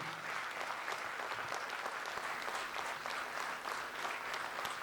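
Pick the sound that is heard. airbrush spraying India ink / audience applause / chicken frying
audience applause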